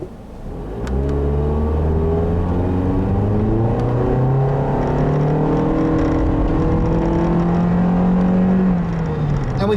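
A 2015 Toyota Corolla Eco with a CVT accelerates at full throttle. Its engine drones loud and close, and the pitch climbs steadily and smoothly for several seconds before easing off.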